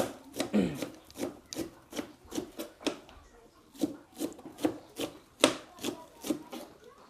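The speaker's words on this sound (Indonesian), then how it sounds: "Kita potong-potong dulu bawang." A knife chops onions on a cutting board in steady, rhythmic strokes, about a dozen and a half crisp wooden knocks close by, while preparing batagor.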